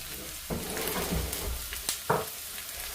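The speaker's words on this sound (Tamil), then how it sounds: "கேரட்டை போட்டு நல்லா வதக்கி எடுத்துக்கொள்ளுங்க" Carrots sauté with onion and green chili in a pan for chicken rolls: a soft sizzle with a few sharp stirring knocks and scrapes, fairly quiet and close.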